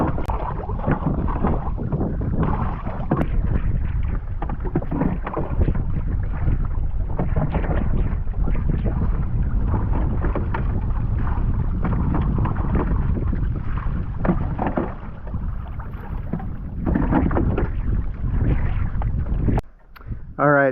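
A pedal-driven skin-on-frame St. Lawrence River skiff moves across the water, with steady broadband rushing and wind buffeting throughout and brief louder knocks near the end.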